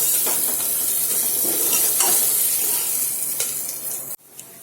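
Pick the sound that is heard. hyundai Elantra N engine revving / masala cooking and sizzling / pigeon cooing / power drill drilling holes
masala cooking and sizzling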